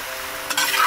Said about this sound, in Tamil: ஒரு ரெண்டுலேருந்து மூணு நிமிஷம் இப்படியே நம்ம கிண்டி விட்டு